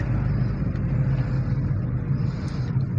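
A car drives slowly through a crowded village street while looking for a parking spot, with a steady engine hum and road rumble close inside the cabin.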